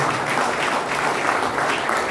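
Steady applause from an audience at a formal gathering, dense continuous clapping that holds at an even, fairly loud level throughout with no talk over it.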